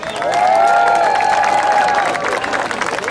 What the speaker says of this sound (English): Another round of applause for Tammy.